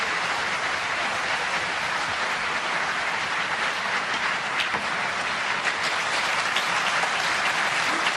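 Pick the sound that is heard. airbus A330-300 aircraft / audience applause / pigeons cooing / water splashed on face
audience applause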